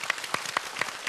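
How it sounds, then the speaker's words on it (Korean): An audience claps to welcome a lecturer onto a stage, with a brief burst of steady, moderately loud applause and no voices. "자, 박수로 맞이합니다."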